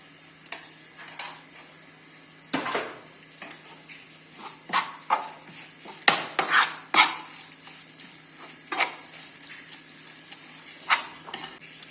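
A spoon stirs spices into mango pickle in a bowl, making irregular scraping strokes and sharp clinks against the dish, close and alone over a quiet background.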